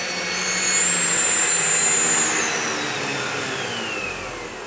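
A Wessel Werk TK 286 STB305-3 turbo nozzle on a vacuum cleaner runs with a steady, close airy whine and a high tonal note that rises, then drops, as it is pushed low under furniture, with no talk.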